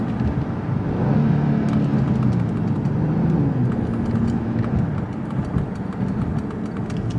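2018 Genesis G80 with an 8-speed transmission driving along, a steady low engine and road hum from inside the cabin with pitch briefly dropping as it shifts gears.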